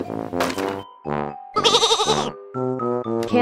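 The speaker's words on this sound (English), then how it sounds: "goat" A toy's recorded goat gives a series of loud, close bleats in several separate bursts, some wavering and some short, with no voice talking over them.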